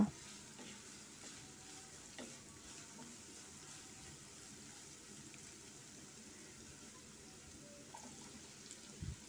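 Yardlong beans and vegetables fry steadily in a pan for vegetable egg noodles, a soft continuous sizzle with occasional stirring clinks, faint and even throughout, no talking.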